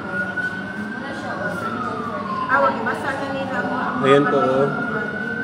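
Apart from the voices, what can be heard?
fire truck sirens at a fire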